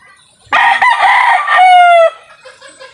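A rooster crows loudly and close by, one long drawn-out call that rises and holds before trailing off into quieter background clucking.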